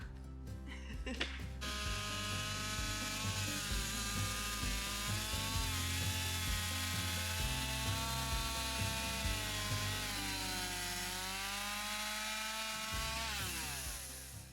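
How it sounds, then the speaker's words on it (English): A Stihl MS 180C chainsaw runs steadily and loudly throughout, its engine whine holding a sustained pitch that dips and recovers as it bites into wood. "All right, more chainsaw."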